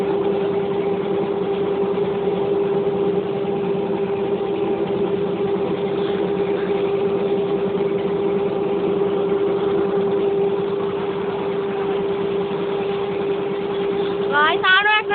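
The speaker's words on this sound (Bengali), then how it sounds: "ওখান থেকে 2টা নৌকা গিয়েছে সবে" Motor boats pass on the water as a steady, droning engine hum with a constant low tone, holding evenly throughout before a rising whine appears in the final seconds.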